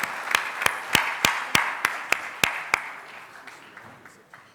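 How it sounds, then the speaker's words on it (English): Audience at a FICCI business gathering applauding the US Secretary of Commerce, a room of clapping cut through by loud, evenly spaced sharp claps near the microphone, fading to softer scattered claps. "can we give a very warm round of applause to the Secretary for sparing his time?"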